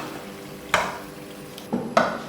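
A metal spoon scrapes and clanks against a pot as Peshawari charsi chicken karahi is dished out, three distinct close knocks over a quiet kitchen background with no talking.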